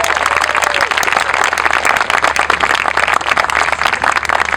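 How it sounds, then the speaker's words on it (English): Audience applause thanking breakfast volunteers, loud, dense clapping from a sizable crowd that carries on steadily for several seconds without talk. "Please give them a round of applause."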